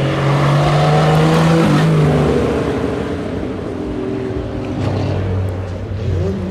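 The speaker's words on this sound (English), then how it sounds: "For example, this loud Triumph GT6." A loud Triumph GT6 sports car engine roars up close, its deep rumble holding steady and then shifting pitch as the car moves past.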